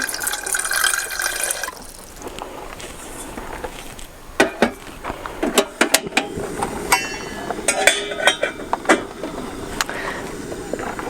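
Tap water runs into a kettle being filled to boil tea, a steady rushing flow at first, then sloshing with scattered clinks and knocks from handling the kettle, close by and with no talking.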